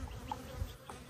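Honey bees buzz around a thriving hive in the morning, a soft, continuous drone with individual bees passing close and fading away.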